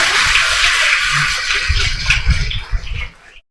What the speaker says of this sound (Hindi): तालियां एक बार पुनः आगे से पीछे तक